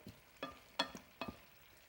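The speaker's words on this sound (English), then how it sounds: "I'm going to stir that in and just heat those tomatoes through" Spoon scraping and stirring cooked tomatoes into tender cauliflower in a pan, with three distinct strokes at a steady rhythm, close and fairly soft, no talking.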